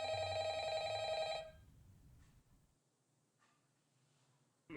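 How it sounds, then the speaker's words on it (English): A telephone rings loudly and steadily at close range, with a bright bell-like tone that stops abruptly, leaving a quiet room with faint low noise. "The phone is still ringing."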